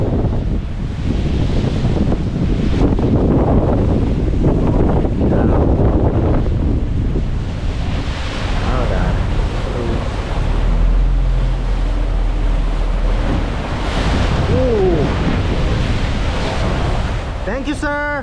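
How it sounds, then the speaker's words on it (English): Rough ocean waves crash and surge beside a cruise ship deck on an old Carnival ship while strong wind buffets the microphone, a loud, continuous roar lasting the whole stretch, with faint voices mixed in. "The water today, though, seemed a bit rougher than usual."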